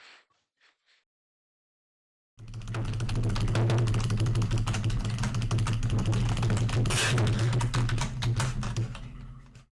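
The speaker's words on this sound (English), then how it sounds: "You get done typing up the message that you want to leave" Typing on a computer keyboard: a dense run of rapid key clicks for about seven seconds, close and fairly loud, after a short quiet start with a few faint taps.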